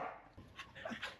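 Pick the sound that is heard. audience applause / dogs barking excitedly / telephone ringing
dogs barking excitedly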